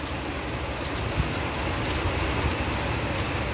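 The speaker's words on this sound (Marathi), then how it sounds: "दाखवतो तुम्हाला फक्त बघा पाऊस कसा आहे" Heavy monsoon rain pours onto a terrace in Pune as a dense, steady hiss that stays constant and close for the whole stretch.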